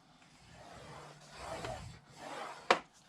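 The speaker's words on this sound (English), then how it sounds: "we are going to score this at 1/2 inch and at 1 on all 4 sides" Paper being scored for handmade craft boxes gives three soft, close rubbing strokes, followed by one sharp little tap.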